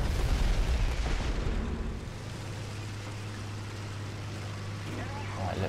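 A tank's fuel and ammunition going up in War Thunder, a loud low rumbling blast in the first two seconds that settles into a steady low engine drone.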